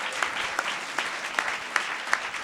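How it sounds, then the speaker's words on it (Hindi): A church congregation claps together in steady, brisk rhythmic applause during worship, a dense even patter heard at moderate distance with regular accented beats. "जोरदार ताली बजा के प्रभु को महिमा दें, जोर से ताली बजाएं प्रभु के लिए।"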